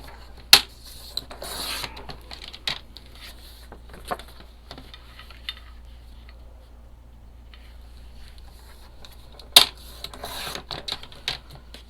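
Sharp, sporadic snips and rustles as white margins are trimmed from printed planner paper, a few crisp cuts clustered near the start and end with quiet handling noise between them.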